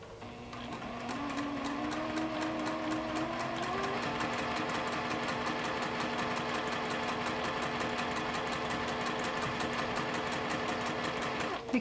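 A sewing machine stitches an applique, running in a steady, fast, continuous rhythmic whir that holds close and even for nearly the whole stretch after a brief start-up.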